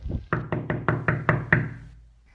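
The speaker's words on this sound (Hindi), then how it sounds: "सुबह को दरवाजे पर दस्तक होती है।" Seven sharp, evenly spaced knocks on a wooden door, loud and close, followed by a short quiet tail.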